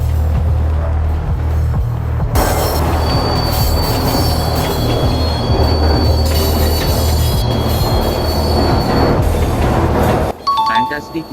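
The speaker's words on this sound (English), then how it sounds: "Final train showing day-to-day traffic." A train runs along the rails in a railway video game, with continuous wheel rumble and squealing, a bell-like chime at intervals, and a voice speaking over the noise before the sound cuts off near the end.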